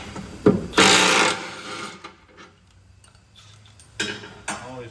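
A socket wrench ratchets in a couple of short bursts on transmission bolts of a 2012 Chevrolet 1500 WT with a 4.3 engine and 4L60E transmission, with light metallic taps between, close and fairly quiet.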